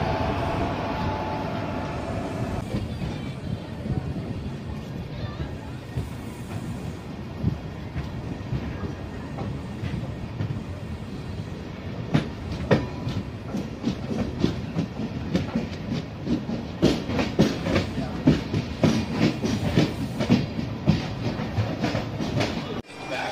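Passenger train hauled by a WAP4 electric locomotive running on rails, a loud continuous rumble with rhythmic clickety-clack of wheels over rail joints growing sharper and busier as it goes, no talk.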